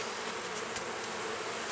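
Honeybees buzz around a hive box, a steady, fairly faint drone of many insects with a few louder passes nearby.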